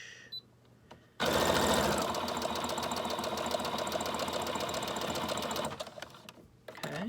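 A sewing machine runs a straight stitch across a junk journal page, a fast, even mechanical chatter that starts abruptly, holds steady for several seconds, then slows and stops, with a few faint handling sounds around it.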